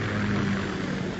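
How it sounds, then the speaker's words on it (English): Kamov K-60 Kasatka helicopter in the Metal Gear Solid 2 video game, a steady, dense rotor and engine roar, loud and continuous with no voices over it. "K-60 Kasatka. Kasatka? Kamov chopper, right?"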